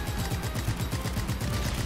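Rapid, steady bursts of gunfire from shooting at targets in the action game Just Cause 3, dense and continuous with low thumping impacts, close and loud throughout.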